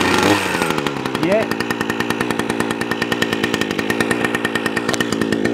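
Ruris RR360 petrol brush cutter engine running steadily at raised revs, a close, loud two-stroke buzz with a rapid even pulse that continues throughout after a brief rough start.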